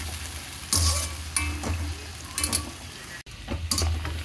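Prawns fry in oil over a low flame, giving a soft, continuous sizzle with intermittent louder bursts and scrapes as they are stirred in the pan.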